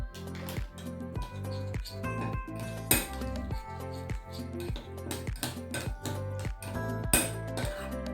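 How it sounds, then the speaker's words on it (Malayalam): Paneer is mixed with spices and salt in a bowl, with a steady run of close clinks and scrapes from a utensil against the bowl under faint background music. "ഇനി ഇതിനെല്ലാം കൂടെ നമ്മൾ നന്നായിട്ടൊന്ന് മിക്സ് ചെയ്യുക."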